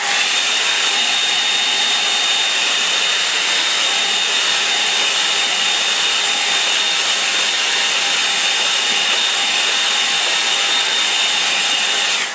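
A hair dryer blows steadily and loudly over a watercolour painting, a constant close-up whirring hiss with a faint high whine and no pauses.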